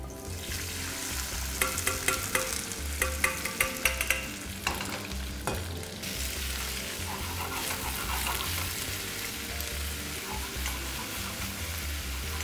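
Ingredients for Padang-style ayam pop sizzle and crackle steadily in hot oil in a pan, with sharper spattering bursts early on and then an even, continuous fry.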